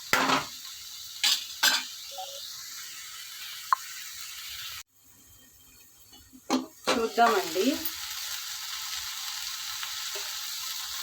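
Drumstick curry seasoned with chili powder simmers and sizzles steadily in a pan, with sharp clanks of a lid or spoon on metal. Someone speaks briefly over the cooking.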